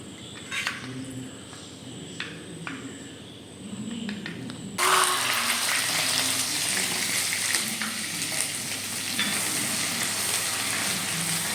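Fenugreek seeds dropped into hot oil for fish curry start a sudden, steady sizzle partway through, following a quieter stretch of light kitchen clicks and clatter, frying close and continuous to the end.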